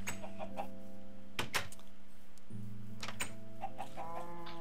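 A chicken in the Feed the Beast video game gives several short, clipped clucks spread across the moment, mixed with bright synthetic game tones and beeps, no voices.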